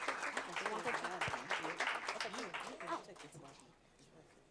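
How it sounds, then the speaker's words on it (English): An audience at a school board of education meeting applauds employees, with dense clapping that stays steady for about three seconds and then thins out as voices talk over it. "Please join me one more time in giving these employees a well-deserved round of applause"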